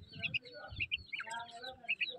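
Quick high chirping calls of a quail, bird notes repeating in short bursts alongside low background murmurs and faint voices nearby.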